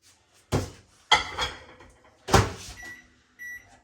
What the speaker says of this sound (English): So we're going to put it in the microwave